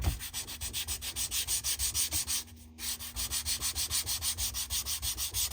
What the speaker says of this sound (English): I could run it on the sandpaper